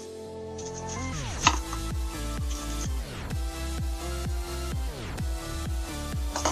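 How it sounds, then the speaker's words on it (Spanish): A knife slices an onion into rings on a cutting board, giving a steady run of crisp, evenly spaced chops that sound close and fairly loud, with no talking. "La cebolla la cortamos en rodajas."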